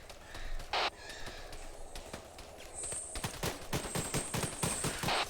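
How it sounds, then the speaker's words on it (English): Gunfire from an enemy shooting out of a second floor window in a combat medic airsoft operation: sharp rapid cracks and bursts, some close and loud, spread irregularly across the moment with no talk. "he's shooting out the second floor window at us"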